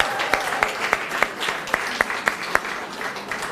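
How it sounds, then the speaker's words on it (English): Applause from a university graduation ceremony audience: a continuous wash of clapping with distinct, evenly spaced louder claps from someone nearby cutting through, moderately loud and sustained throughout. "Please give all of yourselves, all the speakers, everybody a massive round of applause for completing this."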